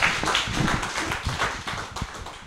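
A congregation applauding, a dense patter of claps close by that keeps going steadily and thins slightly toward the end.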